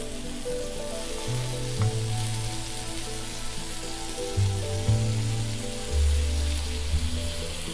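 Soy sauce and honey sizzle in a hot pan while cooking Asian-style long beans, a steady close frying hiss with a low hum underneath and no talking.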